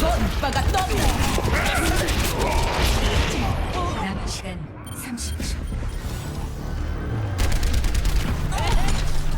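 Overwatch match with McCree firing his Deadeye ultimate, dense rapid gunfire and blasts layered over game music and effects, dipping briefly mid-clip before swelling loud again, with voices chattering underneath.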